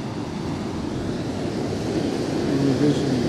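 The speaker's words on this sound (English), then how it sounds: "the vision of the ocean, the sounds of the ocean, sounds." Ocean waves in a relaxing seaside setting, a continuous broad wash of surf mixed with wind, steady and fairly close, gradually building a little louder toward the end.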